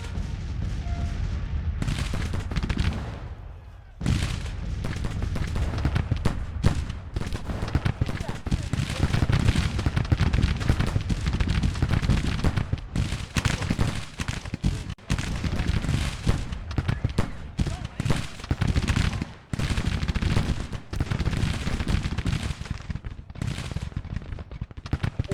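Musket volleys and artillery fire from a Grand Tactician Civil War battle crackle and thud almost without a break, loud and dense, with only brief lulls.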